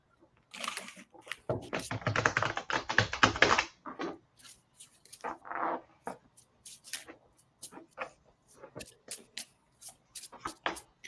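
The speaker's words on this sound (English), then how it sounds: "One more shuffle here." A deck of cards is riffled briefly in a quick, crisp burst, followed by scattered taps and card handling in a quiet room.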